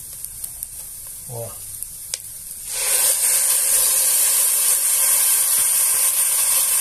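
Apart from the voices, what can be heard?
white wine poured into hot pan for shrimp risotto, sizzling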